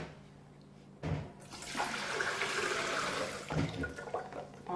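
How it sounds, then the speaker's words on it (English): Water and soaked construction paper pour into a blender in a sudden, loud rush of splashing liquid lasting several seconds, starting and surging again near the end, with no talking. "pour everything inside my blender"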